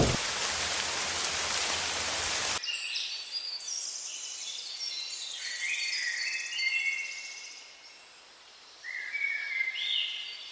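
Heavy rain roars for a couple of seconds, then gives way to a quieter wet ambience with scattered high chirps and calls.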